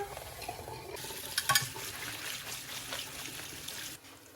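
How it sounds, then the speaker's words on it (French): Water trickles and splashes steadily as red kidney beans are rinsed, a soft continuous running sound up close that stops abruptly near the end. "Ensuite, je rince mes haricots rouges."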